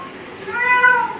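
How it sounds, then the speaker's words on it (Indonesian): A Bengal cat gives a single drawn-out meow, rising and then falling in pitch, clear and close against a quiet room. "Untuk kucing saya ini dia jenisnya Bengal"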